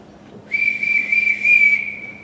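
A single sustained whistle call, steady and piercing with slight pulsing, rising suddenly and holding for about two seconds in an otherwise quiet room, used as a household signal.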